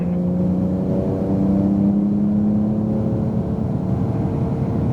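A 2018 Porsche 911 Turbo S accelerates on a race track, its engine climbing in pitch with a steady rising tone under a continuous loud road and wind roar, heard from inside the car.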